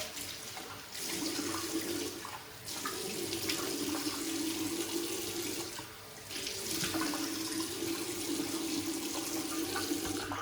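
Tap water running into a sink to wet the face before shaving, a steady rushing splash interrupted twice by short pauses or changes in flow, fairly close and moderately loud, no talking.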